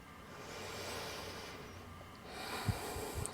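Slow, deep breathing during a postnatal yoga pose: a long, airy nasal inhale swells into a breathy exhale with a brief snort-like push, close up and with no talk.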